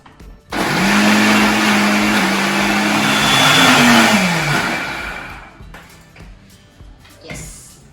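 A kitchen mixer grinder whirs loudly as it blends coconut, coriander seeds, onion and tomato into a fine paste for a Telugu chicken roast, running about four seconds before winding down and stopping.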